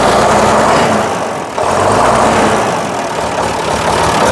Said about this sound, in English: You've got to build the revs up to get the air pressure up